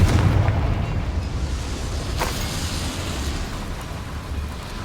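A Confringo blast spell in Hogwarts Legacy lets off a loud booming explosion that trails into a long rumbling, crackling decay; no voices are heard.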